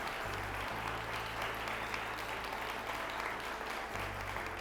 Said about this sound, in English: How about a round of applause for Christina and Matt?